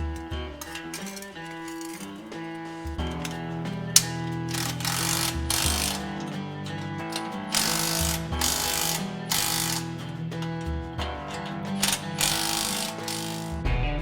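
A band clamp being tightened on the Y pipe of a Jeep Wrangler's DynoMax high-clearance exhaust, heard as steady ratcheting clicks over a continuous mechanical background, close and moderately loud, with no talking.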